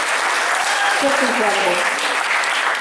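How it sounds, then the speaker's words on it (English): An audience applauds a performer named Sista, a steady patter of clapping throughout, with a voice briefly speaking over it partway through. "Round of applause for Sista"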